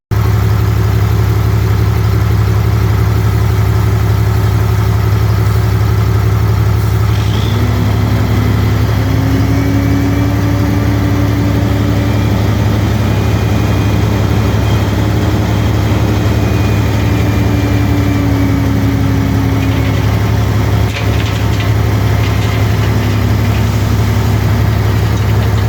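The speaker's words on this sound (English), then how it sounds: "Now there's another truck coming, and I need to push this before he actually has to back in." A truck engine idles steadily at a road base job site, a continuous low rumble that stays even and loud for the whole stretch, with no talking over it.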